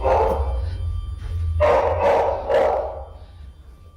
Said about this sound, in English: I left my dogs in mortal terror. Can you hear them?